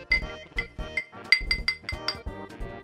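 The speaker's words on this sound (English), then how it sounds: "Stir with a magnet." Glass clinks repeatedly in quick, uneven taps as a drink of Red Bull with Swedish fish is stirred with a magnet, each strike bright and ringing, close and clear with no talking.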